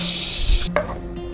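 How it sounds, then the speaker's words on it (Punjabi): Spices for a vegetable korma dropped into hot oil, a steady bright sizzle that briefly cuts out with a clatter and thump, then resumes more softly. "ਤੇਲ ਉਹੀ ਹੈ ਤੇ ਇਹਦੇ ਵਿੱਚ ਮੈਂ ਜਿਹੜੇ ਮਸਾਲੇ ਸੀ ਉਹ ਸਾਰੇ ਵਿੱਚ ਪਾ ਦਾਂਗੀ"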